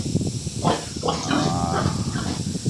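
Pigs on a small farm, including hybrid and native breeding sows, grunt and squeal in short irregular bursts over constant hissing background noise, with a person talking nearby.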